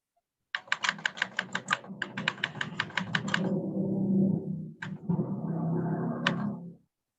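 Typing on a computer keyboard while writing in a Word document: a rapid, even run of close, crisp key clicks, then a steadier stretch of softer tapping with a few sharper strikes near the end.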